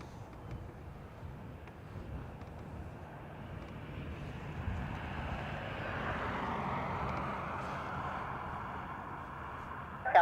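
A Shamrock airliner rolls for takeoff on runway 28 right at Dublin Airport, its engine roar distant and faint, swelling gradually as it accelerates.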